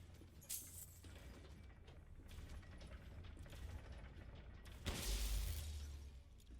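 Moving machine parts in the game Resident Evil Village, grinding mechanical whirs and ratcheting clanks inside an industrial facility, with a heavy low-pitched rumble and crash swelling near the end.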